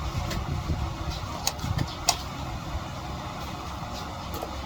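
A motorized tricycle engine idles in a steady low rumble, fairly quiet and continuous, with a few faint clicks and knocks over it and no speech.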